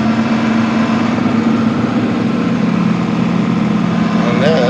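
Small mower engine running steadily with its blades engaged, a constant close droning hum that holds at the same level from start to finish.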